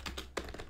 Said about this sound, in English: I've never used a keyboard before